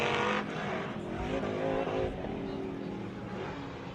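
Off-road race vehicle at the MetalCloak Stampede coming down the Nitto ski jump, a loud close engine roar that surges and then eases as it lands and carries on, with crowd and commentary noise faintly underneath.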